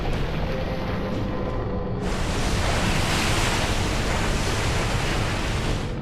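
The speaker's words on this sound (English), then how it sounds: "Waves large enough to take out entire cities." Massive ocean waves in a disaster-film scene, a loud, continuous roar of crashing surf and rushing water that swells even fuller partway through, with no voices over it.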